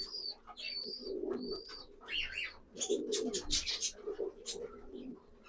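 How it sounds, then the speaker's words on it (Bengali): Pigeons, including Black Jiriya birds, cooing in a loft, soft repeated throaty coos mixed with chirps and wing rustles close by, while someone talks among them. "এই যে পায়রা।"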